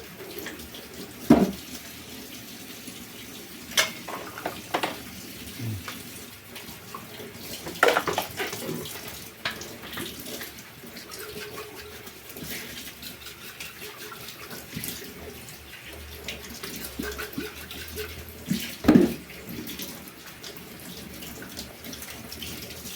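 Feeding bottle parts washed under a running tap, with a soft, steady stream of water and occasional clatters and clinks of the pieces being handled.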